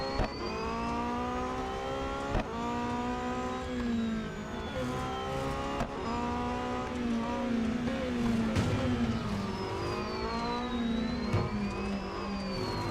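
Race cars accelerate in the mobile video game Real Racing 3, engines holding a loud, steady whine that climbs and shifts in pitch with each gear change as cars run close together throughout.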